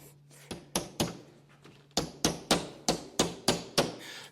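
A hammer knocks on the wooden lid of a shipping crate holding an Xpeed Exhale Pilates reformer: about a dozen sharp, close thuds, a few scattered strikes, then a steady run of even blows.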